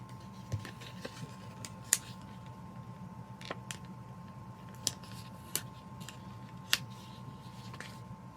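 Scissors cut paper for a planner page, giving a few sparse, crisp snips spaced several seconds apart. The snips are quiet and close, over a steady electrical hum.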